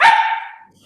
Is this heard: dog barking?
yes